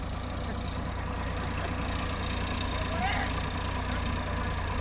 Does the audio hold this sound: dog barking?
no